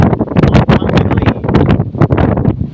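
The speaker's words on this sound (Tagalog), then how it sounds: "Medyo malakas ang hangin" Strong wind gusts at the seaside in Manganoy, where the water is choppy, buffet the microphone in a loud, continuous roar with no talking.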